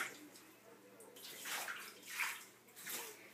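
Bath water is poured and splashed over a baby during rinsing, soft swelling washes of water recurring in gentle waves, fairly faint and close.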